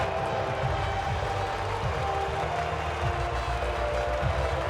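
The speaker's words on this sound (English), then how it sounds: "they thoroughly deserve the cheers of the crowd here today" Stadium crowd cheering and applauding in the F1 23 racing game, a steady dense roar with clapping that holds at an even level throughout, no clear voices over it.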